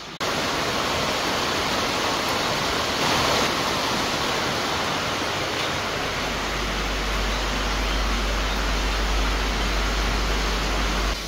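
Steady, dense hiss of heavy rain falling outside, constant and fairly loud, with a low rumble joining partway through.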